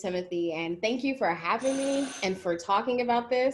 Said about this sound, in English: sorry that my doorbell is randomly ringing